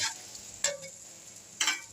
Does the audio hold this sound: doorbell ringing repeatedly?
no